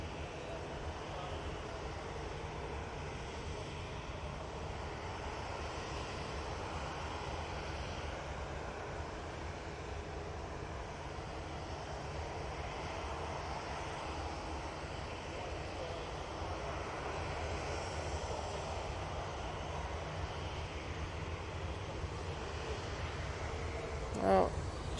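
A Jet2 airliner passes over Manchester Airport as a steady, broad engine roar that swells slightly and stays fairly distant throughout, with a brief louder knock near the end.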